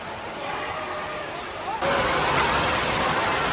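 Water splashes and rushes at a slide at the Country Cascades Waterpark Resort, a steady broad wash with a louder surge of splashing partway through, with voices and crowd noise mixed in.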